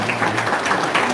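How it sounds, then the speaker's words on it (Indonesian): An audience at a talk show claps in a dense, steady burst of applause, close and fairly loud, lasting about a second. "tepuk tangan dong."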